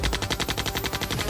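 Rapid machine gun fire in a movie battle scene, a steady rattling burst of evenly spaced shots, loud and continuous with no talk.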